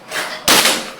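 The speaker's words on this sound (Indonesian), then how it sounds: "Oke, satu kali tembakan ya." A PCP air rifle, a Jawara Monster, fires a single sharp shot midway, a sudden loud burst that cuts through a steady background hiss and then slowly fades.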